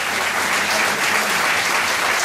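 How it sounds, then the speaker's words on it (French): A crowd at the Miss Cristal 2012 pageant applauds the contestants, a thick, continuous burst of clapping at steady loudness from start to finish. "vous pouvez les applaudir encore plus fort que tout à l'heure"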